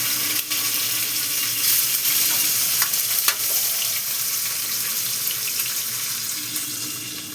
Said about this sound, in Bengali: এবার আমি এই যে ইলিশের টুকরোগুলো দিয়ে দিচ্ছি